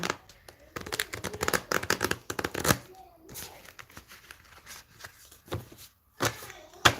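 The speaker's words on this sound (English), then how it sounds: "I'm still shuffling." Tarot cards being shuffled by hand in a quiet room, a run of quick riffling and tapping bursts, moderately close, with short pauses and a few isolated card snaps toward the end.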